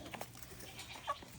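Farm goats giving short, faint bleats at a distance amid quiet outdoor background, one brief call standing out near the end.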